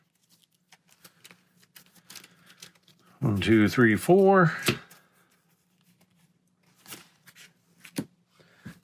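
A deck of playing cards being shuffled during a solo game of the card game Hero Realms, a short riffling flutter of about a second and a half, close and clear, surrounded by quiet counting speech.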